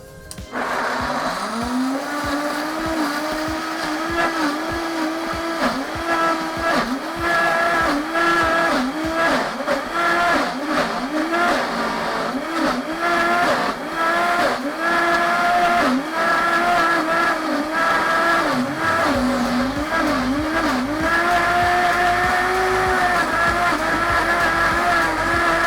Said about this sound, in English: Get my tamper here for the Vitamix. And I'm going to blend this up.